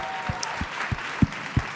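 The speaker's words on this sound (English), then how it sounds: "Applause, please." An audience at a talk about Latinos in decision-making gives a brief round of applause, several scattered claps spaced apart, fairly soft and thin rather than a full ovation.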